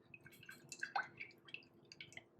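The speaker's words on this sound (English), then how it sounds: "I'm going to use my thumb on the edge of the bottle to slow the pour and just drizzle some drops of oil on" Oil drizzles from a bottle in slow drops onto vegetables for roasting, producing faint, soft, irregular drips and light splatters in a quiet room.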